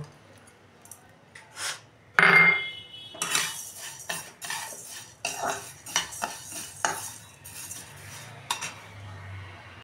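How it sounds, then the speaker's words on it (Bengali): Mung dal is fried in a pan while a metal spatula clanks and scrapes in irregular strokes, some sharp and loud, others soft. "এবার আমি ডালটা ভেজে নেব, মুগ ডালটা ভেজে নেব"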